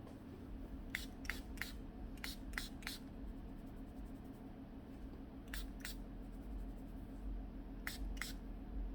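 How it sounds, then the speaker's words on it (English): Quiet, sharp spritzes from a spray bottle of rice water hair solution, sprayed onto a scalp, come in quick clusters of two or three over a faint background hum. "When you shake it up, then you just spray. I'm going to spray it on her scalp."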